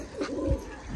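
A soft, low coo from domestic pigeons sounds once near the middle, faint against quiet background noise.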